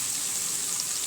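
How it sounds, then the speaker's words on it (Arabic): Onion sautéing in a pan with spices sprinkled in, a steady, even sizzle heard close up, continuous and alone with no voices. "اشوح البصله بتاعتي، وانا بشوحها احط عليها شويه توابل"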